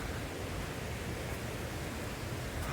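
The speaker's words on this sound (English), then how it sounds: "There's the waterfall." A continuous broadband rush of falling water from a waterfall in Scotland in winter, steady and fairly distant, with no voices.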